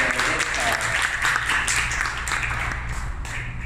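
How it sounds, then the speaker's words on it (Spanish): Steady, loud applause from a church congregation fills the whole stretch, dense and continuous with some voices mixed in. "Fuerte aplauso, si lo vamos a dar, fuerte."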